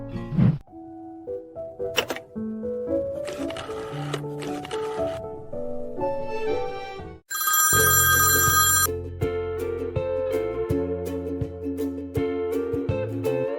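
A phone placing a call plays a melodic electronic ringing tone and jingle that repeats over several seconds, loud and up close, with a brief squeal in the middle and no talking.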